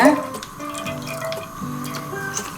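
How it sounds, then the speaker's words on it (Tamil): Half a litre of milk pours into a cooking pot on a stove, a steady liquid splash and trickle heard fairly close for a few seconds, with a voice speaking over it. "1/2 லிட்டர் பால் ஊற்றிக்கோங்க."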